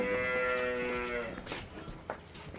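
A freshly calved buffalo on a farm in cold weather gives one loud, long, close moo lasting over a second, followed by quieter shuffling and farmyard noise.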